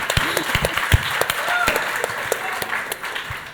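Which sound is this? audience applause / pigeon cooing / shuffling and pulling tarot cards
audience applause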